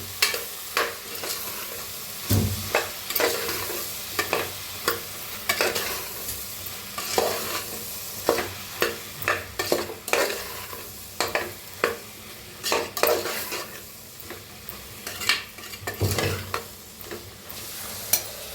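Potatoes fried in a pan for an aloo matar curry, with steady sizzling and repeated close, sharp stirring scrapes and spoon clacks against the pan, recurring irregularly throughout.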